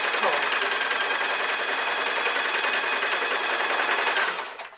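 A sewing machine stitches elastic onto taut fabric, a steady close, fast whirring chatter running nearly five seconds before easing off at the end.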